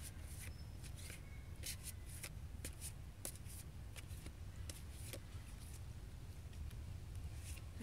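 Angel cards being shuffled by hand, faint repeated crisp riffles and snaps at an irregular rhythm over a low background hum, with no talking.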